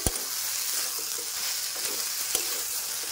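Spice paste fries in a pan over a low-to-medium flame, a dense continuous sizzle up close with a few soft stirring scrapes and taps.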